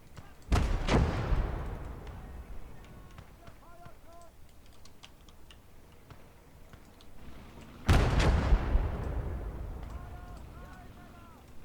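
Two heavy artillery impacts boom in the war game Call to Arms: Gates of Hell, several seconds apart, each a loud thump with a long rumbling decay, with soft keyboard clicks in between.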